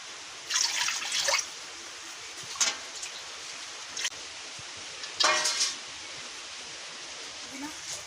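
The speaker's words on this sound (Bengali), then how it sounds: "এবার সেদ্ধ হওয়ার জন্য আমরা ওখানে পরিমাণ মতো জল দিয়ে দেবো।" Water is poured into a karahi on the stove to boil prawns, with a few short splashing pours and drips over a steady background hiss.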